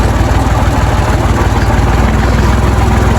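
A tractor engine runs steadily at a loud, close, rumbling idle with a constant vibrating drone and no pauses or talking.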